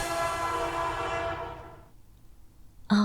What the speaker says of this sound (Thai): ทุกคนได้ขึ้นรถไฟไปกรุงเทพ